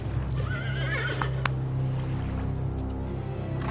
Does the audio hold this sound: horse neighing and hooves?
yes